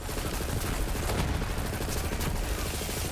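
Rapid automatic gunfire from a gun in Borderlands 3, a dense, continuous stream of loud shots with heavy recoil, sustained at constant intensity throughout.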